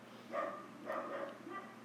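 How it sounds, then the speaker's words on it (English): Dogs bark faintly from another room, three muffled, distant barks spaced about half a second apart against a quiet background. "You can probably hear my dogs barking every so often."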